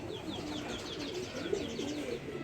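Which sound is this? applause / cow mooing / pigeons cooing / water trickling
pigeons cooing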